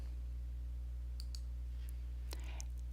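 A few sharp computer mouse clicks, close and fairly faint, tick over a steady electrical hum with no talking.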